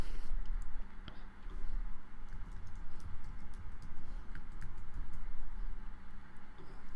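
Rapid, steady typing on a computer keyboard while entering a password, a continuous patter of light clicks over low background hum, with no talking.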